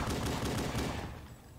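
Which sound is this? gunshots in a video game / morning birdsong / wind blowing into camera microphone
gunshots in a video game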